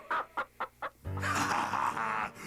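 A hen gives four short clucks in a quick rhythm, then breaks into a longer, drawn-out squawking cackle, close by.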